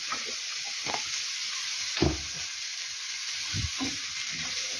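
Carrot and bell pepper frying in oil in a pan for stewed cabbage, a steady close hiss of sizzling with occasional spoon knocks and stirs scattered through it.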